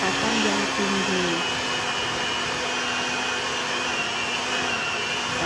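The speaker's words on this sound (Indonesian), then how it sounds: "lalu mixer dengan menggunakan kecepatan yang tinggi" An electric mixer runs on high speed through burger-bun bread dough, giving a loud, steady motor whine that holds without pause for the whole stretch.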